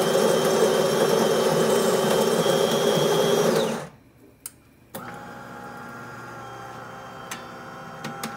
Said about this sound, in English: So let us start with an espresso. Put it there. I'm going to hit the brew.